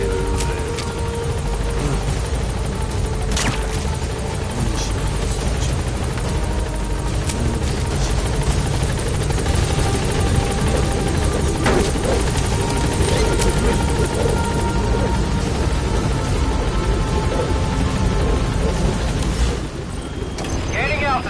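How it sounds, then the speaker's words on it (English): A helicopter in Metal Gear Solid V: The Phantom Pain drones with steady, loud rotor chop and engine roar throughout, with game sounds and voices over it. "Board the chopper when you're ready for a mission."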